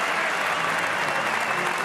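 A rugby stadium crowd at an Ulster match applauds a successfully struck kick, steady dense clapping with a faint cheer blended in, continuous and loud throughout with no voices clearly standing out.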